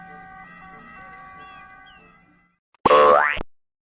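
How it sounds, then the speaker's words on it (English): A synthesized ambulance siren sounds first as a soft steady wailing tone that fades away, then after a short silence a loud, rising, cartoon-like burst rings out for about half a second before cutting off. "This is an ambulance, an emergency medical vehicle that gets patients to the hospital as quickly as possible."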